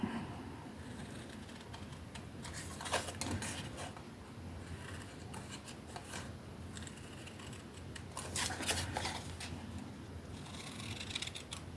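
Paper being cut with scissors for a handmade mini album, giving soft, irregular snips and rustling that stay close and fairly faint, with no talking.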